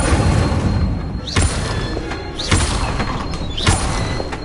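Incendio fire spell cast repeatedly in the video game Hogwarts Legacy, three loud whooshing bursts with thudding impacts at roughly one-second intervals over a dense, roaring game soundscape, no talking.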